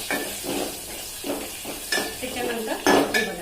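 Raw peanuts tipped into a hot pan for frying give a few scattered rattling clatters and scrapes against the metal, with a faint sizzle underneath, close and moderately loud.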